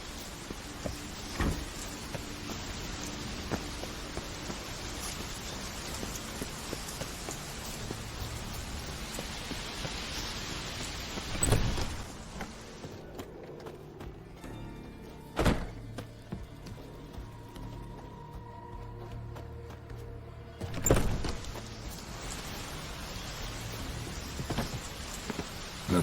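Rain falling in The Witcher 3, a soft continuous hiss of steady rainfall with a few louder sudden swells and bursts standing out, moderately faint with no speech.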